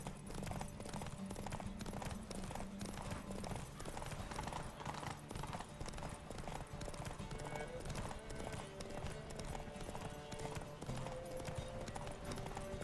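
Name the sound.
horse galloping in Witcher 3 Hearts of Stone horse race, video game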